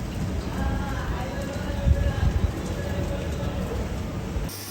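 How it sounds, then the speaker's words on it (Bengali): Rain falls steadily outside, an even soft hiss heard from indoors, with a few louder patters midway. "বাহিরে বৃষ্টি"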